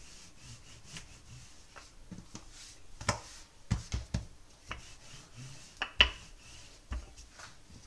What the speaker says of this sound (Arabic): عندي هنا شوية دقيق أبيض، نبدا نسرح في العجين